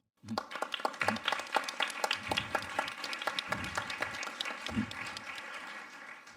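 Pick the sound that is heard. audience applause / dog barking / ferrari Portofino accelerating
audience applause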